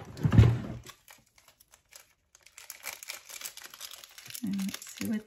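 Crinkling plastic followed by several quick scissor snips and rustles as a plastic bag is cut open, close by, with brief low murmurs near the end.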